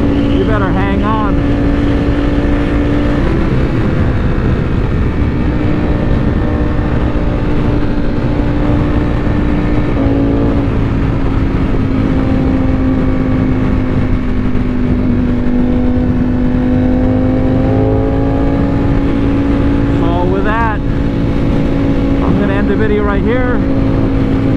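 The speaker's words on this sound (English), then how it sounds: "the G-forces on this Panigale V4, when you open that throttle, you better hang on" A Ducati Panigale V4 liter-class motorcycle engine held at full throttle, a loud steady droning roar that shifts pitch around the gear changes, with wind noise and brief whistles layered over it.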